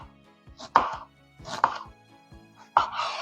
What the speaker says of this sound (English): So I'm just gonna finely slice this red onion.